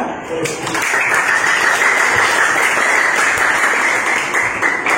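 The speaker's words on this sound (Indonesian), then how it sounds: "Dan hari ini Bapak berikan suatu aplaus dulu buat semuanya ya." A classroom of students gives sustained applause, many hands clapping in a continuous even roar that runs nearly the whole length, with a brief spoken moment at the start.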